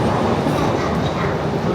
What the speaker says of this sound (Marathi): ही चालली बुलेट ट्रेन